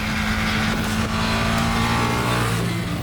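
A Ducati Panigale V2 sport motorcycle engine drones loud and steady with a deep rumble and faint rising whine, continuous and close.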